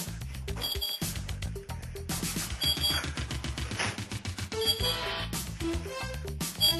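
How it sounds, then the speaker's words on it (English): An alarm goes off in a children's animated kitchen scene, a string of rapid electronic beeps and ringing tones repeating in bursts with clattering, busy sounds mixed in and no speech. "The alarm sounds."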